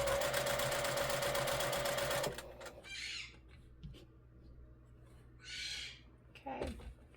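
A sewing machine stitches white fabric in a dense, loud, steady mechanical run for about two seconds, then stops, leaving a quiet room with a few soft rustles and faint sounds.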